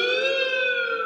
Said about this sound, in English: you can make some siren noises with your handy slide if you want